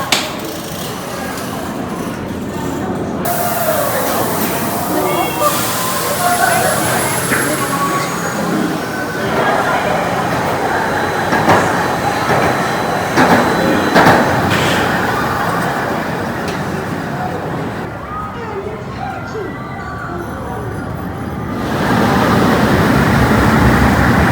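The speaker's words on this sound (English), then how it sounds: "Crazy intense ride. Onboard audio." Onboard roar of the Viper roller coaster at Six Flags Magic Mountain, a loud continuous rumble of wheels, track clatter and rushing wind with shifting intensity and riders' voices mixed in.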